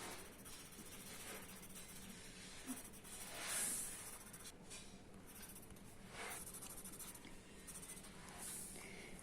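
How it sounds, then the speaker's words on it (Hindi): A graphite pencil scratches zigzag shading strokes across drawing paper for a fruit basket sketch, a faint, close, continuous rasping with small rhythmic bursts and no talking. "पेंसिल को थोड़ा सा ऐसे पकड़ेंगे और उसको जिग जैग करते चलेंगे"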